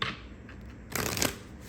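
Tarot cards being shuffled in two brief riffling bursts, a short flutter at the start and a longer, louder one in the second half, fairly close with no talking.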